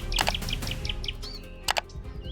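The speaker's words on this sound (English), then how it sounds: "when that call rings out in the night, you know the long-eared owl is watching" A long-eared owl of the Bohemian forests in the Czech Republic gives short, sharp calls, several quick notes then a pause and another pair, clear and fairly close against a quiet background.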